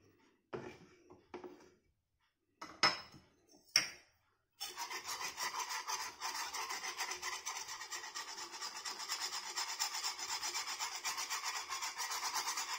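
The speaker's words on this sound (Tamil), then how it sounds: "கட்டி இல்லாமல் நல்லா கிண்டி கிண்டி விடணும்." Flour and milk being stirred continuously in a pan for white sauce: after a few isolated scrapes, a quiet, steady rhythmic rasping of the spoon against the pan runs without pause.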